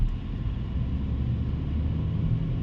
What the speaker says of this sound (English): Lot of noise from the engine.